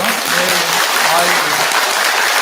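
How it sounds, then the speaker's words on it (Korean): Temple congregation at a Sunday dharma service clapping together as a practice round, a loud dense burst of hands filling the room, with some voices mixed in. "박수 한번 그냥 연습 한번 해볼까요?"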